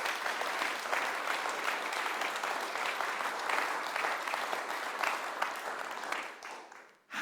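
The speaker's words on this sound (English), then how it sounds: "If that doesn't deserve a round of applause, I don't know what does." An audience at a talk breaks into a sustained round of applause, dense and even for several seconds before cutting off abruptly.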